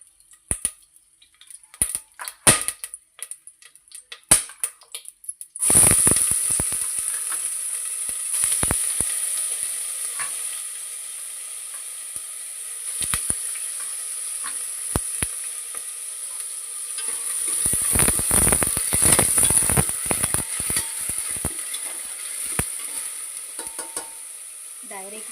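A tempering of cardamom pods, peppercorns, cloves and onion sizzles hard in a pan, starting after a few sharp clinks and continuing as a loud steady fry with stirring knocks, no talk.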